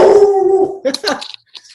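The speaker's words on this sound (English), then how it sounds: "the dog pound is speaking" A dog indoors howls in a long, drawn-out wail, then breaks into a few sharp barks and yips before falling quiet, loud and close to the microphone.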